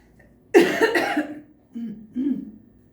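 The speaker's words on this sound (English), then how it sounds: "that's why I'm coughing" A couple of harsh, close coughs in quick succession, followed by two softer throat-clearing grunts.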